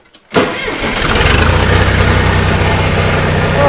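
A John Deere 2240 tractor's diesel engine cranks briefly and catches, then settles into a loud, close, steady idle with a slight knocking chug.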